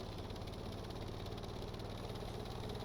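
Helicopter engine in Stormworks running at full throttle, a steady, even, continuous drone with a low rumbling hum and fine rapid pulsing, unbroken and alone throughout.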